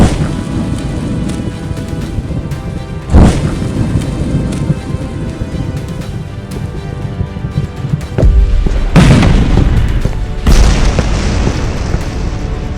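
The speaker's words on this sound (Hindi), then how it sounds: "सर, लगता है किसी ने फायर क्रैकर फैक्ट्री खोल ली है बाहर।" Explosions going off outside in the Detective IQ 3 video game, a steady rumbling wash broken by several deep booms, two of them sharp and loud around the middle and end, with no voices.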